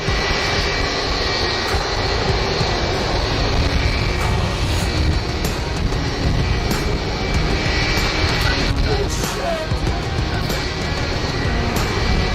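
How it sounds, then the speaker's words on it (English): An Airbus A330 jet airliner taxiing with engines running gives a loud, steady, close roar and rumble that stays level throughout. "This Airbus A330 hit a light pole while taxiing."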